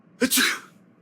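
A single sharp sneeze in a French animated cartoon, a quick intake followed by an explosive burst that tails off, close and alone.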